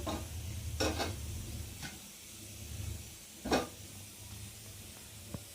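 A tomato coated in mustard oil roasts over an open flame, giving a soft sizzle with a few sharp crackles and pops spread across the moments, close and alone.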